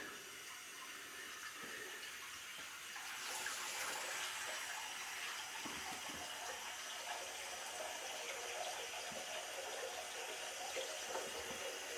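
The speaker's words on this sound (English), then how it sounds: "First thing actually I want to do is just run some water," Tap water runs steadily into a sink, a continuous hissing splash that swells slightly after a few seconds and keeps flowing.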